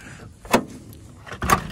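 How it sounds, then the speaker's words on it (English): An old Nash car's door in a junkyard is worked open, with two separate clunking knocks about a second apart, the second louder and longer, close by with no talking. "Let's see if we can't open the door."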